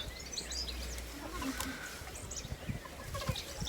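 Farm hens cluck outdoors, soft and somewhat distant, scattered short calls over steady background noise and light rustling.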